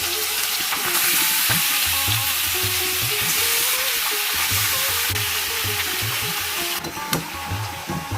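Duck meat sizzles and spits in hot mustard oil with bay leaves, a continuous crackling fry with occasional scraping and clatter from stirring in the pan.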